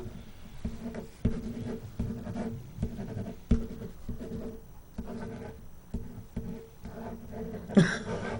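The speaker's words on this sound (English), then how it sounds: "That's a typewriter." A typewriter clacks in irregular bursts of taps over several seconds, with a slightly louder strike near the end and no talking.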